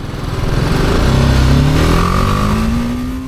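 A BMW G310GS single-cylinder motorcycle revs up close during a test ride, its engine note rising steadily in pitch, then easing slightly.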